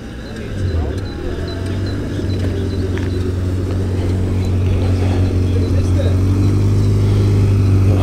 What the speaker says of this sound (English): Honda VTEC R powered Mini.